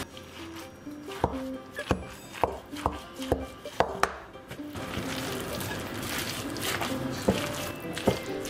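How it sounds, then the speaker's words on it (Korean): Sausage roll filling with fried onion, bacon and a herb mix worked together in a bowl, giving a run of rhythmic knocks and taps that gives way to a steadier wet, squishing churn, close and fairly quiet, without voices. "허브 믹스 1 티스푼 넣어주시고 잘 섞어주세요"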